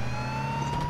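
A police car siren in the video game H1Z1 wails steadily, with a high sustained tone over a constant engine-like drone, loud and continuous with no talk.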